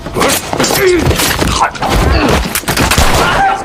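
Gunfire in an action film shootout at a building: loud, rapid bursts of shots with sharp cracks and thuds, mixed with other sounds from the scene.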